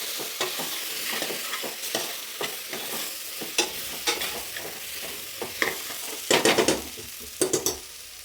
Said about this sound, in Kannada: ಇನ್ನೆಲ್ಲ ಎಣ್ಣೆಲಿ ಚೆನ್ನಾಗಿ ಬಾಡಿಸ್ಬೇಕು.